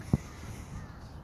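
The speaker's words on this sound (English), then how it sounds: "Gorgeous birds." A single short crow-like caw from a bird stands out briefly against a faint outdoor background.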